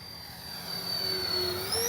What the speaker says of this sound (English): Oh man, what a beautiful jet.